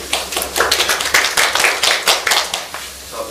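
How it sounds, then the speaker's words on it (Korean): Applause from the audience at a civic history network's general assembly meeting, a burst of hand claps that swells and carries on for about three seconds, close and lively with no talk over it. "박수 한번 주시죠"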